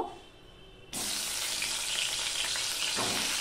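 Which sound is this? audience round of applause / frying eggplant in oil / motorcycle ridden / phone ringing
frying eggplant in oil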